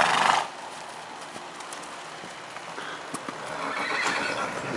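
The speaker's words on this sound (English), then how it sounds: "Handy horse puts herself right up in the stall." A horse gives a loud, close whinny at the start, then hooves clop on and off as the mare walks herself into her stall, with faint stable noise underneath.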